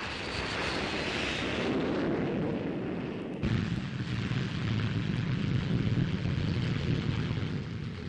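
A P-1067 jet fighter roars past in a broad, continuous rush of engine noise that stays loud throughout, with a sharp change in tone partway through the pass.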